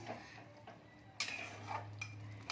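Spoon stirring chicken curry in a metal pan just after garam masala is sprinkled in, giving a few scraping clinks of utensil against pan over a low steady hum, with one sharper knock midway.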